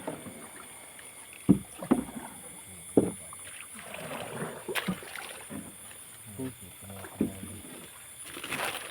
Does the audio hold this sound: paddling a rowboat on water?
yes